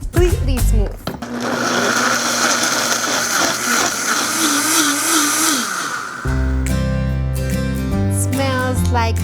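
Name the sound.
blender pureeing sauce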